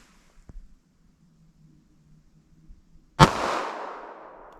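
A single sharp gunshot from a Fort Scott TUI .380 ACP pocket pistol with a 2 3/4 inch barrel, loud and close, cracking out after near silence and trailing into a long echoing decay.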